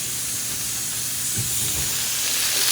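Potatoes and bell peppers frying in a pan give a steady, fairly loud sizzling hiss that holds evenly throughout with no voices.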